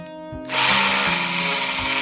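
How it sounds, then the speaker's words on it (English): A saber saw starts up after a brief low hum and then cuts steadily through pallet wood with a harsh, buzzing whine, close and loud. "I'm going to use my saber saw to cut the shape of this."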